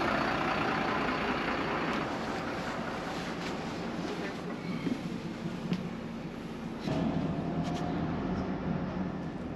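Interior rumble of a short bus ride to the ferry terminal building at Dieppe after the Newhaven crossing, a steady low engine drone with road noise and occasional rattles and clunks, fairly loud and continuous.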